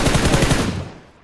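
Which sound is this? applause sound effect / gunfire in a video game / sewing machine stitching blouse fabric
gunfire in a video game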